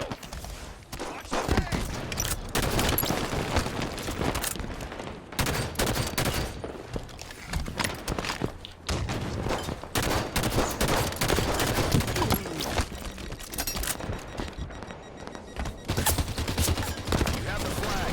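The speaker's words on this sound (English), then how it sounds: "Incineration cannons on the field." Incineration cannon fire in Halo 5 blasts almost nonstop, a dense loud barrage of explosive shots and booms filling the whole stretch, with faint game voice callouts beneath.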